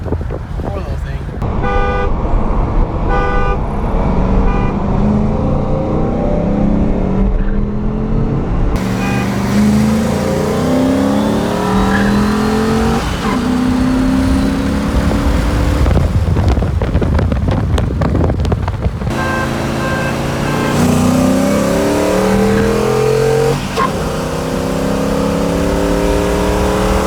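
Race car engines rev and scream past at high revs, with sharp gear-change pitch sweeps, wind buffeting the microphone and a toot, loud and continuous near the track.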